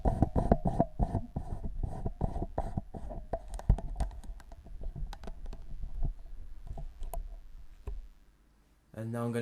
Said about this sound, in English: excuse the noise while I put this camera onto my tripod